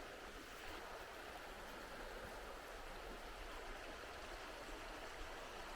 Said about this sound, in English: Oh, the sounds of the river.